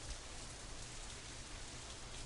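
Rain in Katawa Shoujo falls as a steady, dense hiss with no breaks and no talking.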